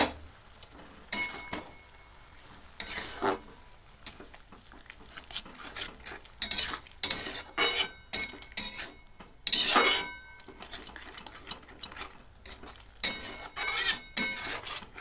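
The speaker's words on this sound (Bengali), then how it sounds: "ভালো করে মিশিয়ে নিচ্ছি দু তিন মিনিট ভালো করে নেড়ে চেড়ে রান্না করে নিয়েছি" Spinach curry being stirred in a pan, heard as irregular bursts of metal spoon scraping and clinking against the pan with pauses between them and a light sizzle underneath.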